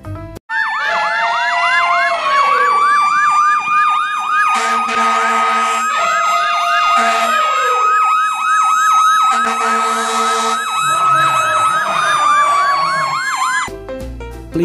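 A toy elephant fire truck sounds a loud electronic siren, a rapid rising-and-falling wail repeating steadily for about thirteen seconds with no talk, then cutting off abruptly.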